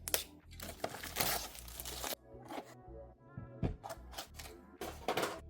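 Vinyl wrapping comes off a new keyboard with loud, close crinkling and tearing in bursts, broken by short pauses and light handling noises.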